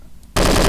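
Loud, sustained automatic gunfire bursts in suddenly in a Doom 2 mod, Twilight Warrior, during a shootout with zombie soldiers.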